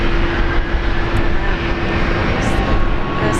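Aircraft noise at Brisbane Airport, fitting a Boeing 737: a steady, loud broadband engine roar with a constant tonal whine, continuous and close throughout.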